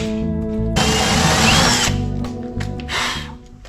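A power drill boring an 8.5mm hole through a steel leaf spring hanger, a loud steady motor whine with a harsh grinding burst as the bit cuts, then spinning down and revving again, close up.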